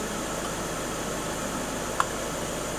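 A VW Golf 1.6 TDI diesel engine idles with a steady, even hum and broadband hiss at constant level, broken only by one brief faint click near the end, with no voices.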